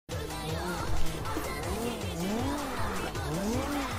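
Drifting car in CarX Drift, engine revving in rising and falling sweeps with continuous tire squeal throughout, loud and close, with no talking.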